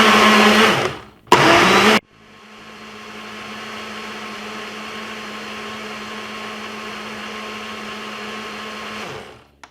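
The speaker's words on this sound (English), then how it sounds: "we're gonna blend this syrup for probably about 3 to 4 minutes" A smoothie blender whirs through pineapple syrup for a Jamaican pineapple juice: a short loud burst, a brief stop, then a steady, fairly close whirring that runs until it cuts off at the end.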